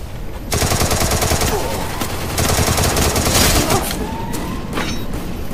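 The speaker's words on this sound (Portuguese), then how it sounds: "Os caras dão um tiro de longe que pega fácil, velho." Gunfire in a shooter video game: rapid automatic bursts, loud and close, fired in dense repeated volleys with brief pauses, and a voice speaking briefly near the end.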